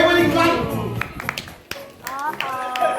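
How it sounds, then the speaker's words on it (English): A crowd of spectators at a Creek Park bird show in Dubai gives a short burst of scattered clapping, with children's voices and an announcer talking over it. "Everybody clap."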